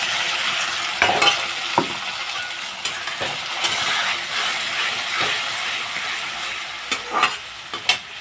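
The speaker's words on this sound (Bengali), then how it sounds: "আলুগুলোকে লালচে করে ভেজে নিলাম। এখন দিয়ে দিচ্ছি মশলা।" Potatoes fry in a pan until reddish as spices go in: a continuous close sizzle broken by scattered sharp clicks and scrapes of stirring, no talk.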